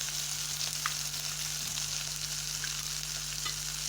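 Masala powder frying in hot oil for Tamil village-style vathal kulambu gives a steady, close sizzle with small crackles throughout and no voices.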